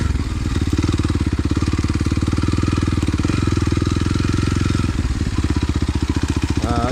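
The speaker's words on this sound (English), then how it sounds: "KLX 230 is awesome for stuff like this." Kawasaki KLX 230 motorcycle engine running steadily and close by, a loud, even single-cylinder putter that holds the whole time with a slight change in pitch near the end.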